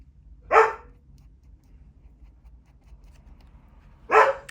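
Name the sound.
dog barking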